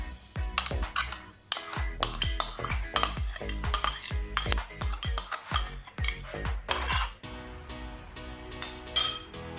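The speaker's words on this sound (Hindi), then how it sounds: "इन सब चीज़ों को हाथों की मदद से अच्छे तरीके से मिक्स कर लेंगे।" Metal spoons and bowls clink and clatter in rapid, irregular strikes, close and bright, while chicken biryani marinade with spices, yogurt, coriander and fried onion is mixed by hand in a kitchen.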